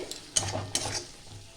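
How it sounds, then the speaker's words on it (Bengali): Green peas stirred into spice paste that is frying in oil for a vegetarian Bengali cabbage dish. There are two or three close scraping stir strokes over a soft, steady sizzle. "মটরশুঁটিটা দিয়ে আমি এক মিনিটের মতো একটু কষাবো"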